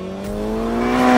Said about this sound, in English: The exhaust system has been tweaked to give the car the proper sound while maintaining its Grand Tour nature.